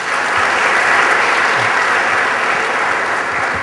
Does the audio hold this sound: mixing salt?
no